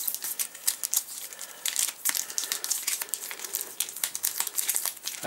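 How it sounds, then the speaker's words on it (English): A deck of cards for the Tiny Epic Defenders board game is shuffled and mixed by hand, giving a close, busy stream of papery riffles and crinkling flicks with no talking. "But this is then shuffled and completely mixed."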